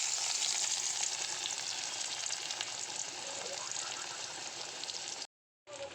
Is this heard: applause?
no